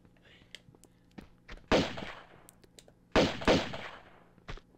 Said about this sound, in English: I guess I'll just shoot them because they're dying